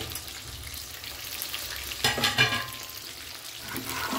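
Previously fried chicken drops into a hot pan for a spicy crunchy chicken dish, giving a steady sizzle throughout with a burst of louder crackling and stirring near the middle.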